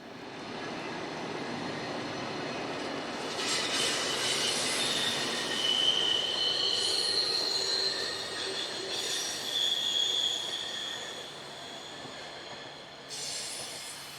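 Rhaetian Railway train crossing the 1902 stone viaduct over the Albula Gorge, its wheels squealing in long high-pitched screeches over a steady rolling rumble, fairly close and with no voices.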